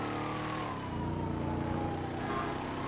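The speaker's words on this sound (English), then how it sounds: "Car sounds amazing." A car engine revs and drones steadily in GTA roleplay during a demolition derby, loud and continuous, with a siren-like tone sliding faintly above it.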